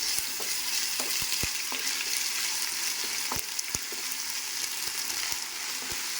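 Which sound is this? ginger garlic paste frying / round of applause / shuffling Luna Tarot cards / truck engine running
ginger garlic paste frying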